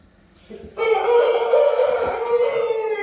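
A fighting rooster of about 5 kg crows loudly and close by, one long drawn-out call that starts abruptly after a brief quiet moment and continues to the end.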